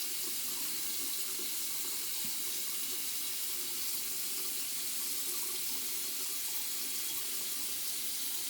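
Tap water runs steadily into a sink to rinse a nail brush, a continuous moderate splashing stream with no talk.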